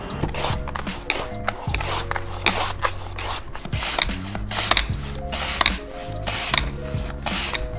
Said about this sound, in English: I've basically just put the potato back together after slicing it